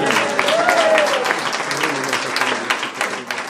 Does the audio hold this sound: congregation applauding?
yes